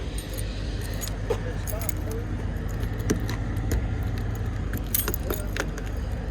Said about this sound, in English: If I could find my keys.